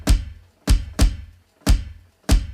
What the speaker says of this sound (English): Now the bass drum on a real kit is the biggest drum